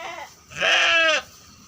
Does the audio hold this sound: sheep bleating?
yes